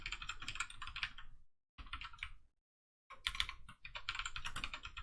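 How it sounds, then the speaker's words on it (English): Fast, clattery mechanical keyboard typing up close, in bursts separated by brief silent pauses. "it's the mechanical keyboard actually picks up my main mic too"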